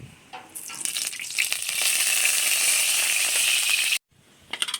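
Oil sizzling and frying hard in a karahi (wok) while cooking river and pond fish, a steady loud hiss with scraping stirs that cuts off abruptly, then resumes briefly.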